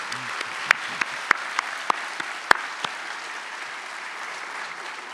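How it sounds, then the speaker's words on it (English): A university convocation audience applauds, a steady wash of clapping with a few sharp nearby claps standing out, continuing at moderate loudness. "Let's give everyone, again, a big round of applause."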